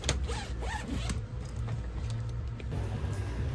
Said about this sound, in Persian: این دبل زیپ، دبل زیپ